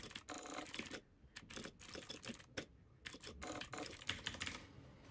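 Close, quiet keyboard typing comes in irregular quick bursts of key clicks separated by brief pauses, with no voice present.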